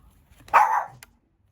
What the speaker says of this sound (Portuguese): agora começou a latir que nem uma doida